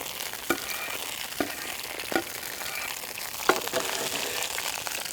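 Faint, steady sizzling and crackling of garlic frying in olive oil, with a few soft clicks and stirring sounds scattered through.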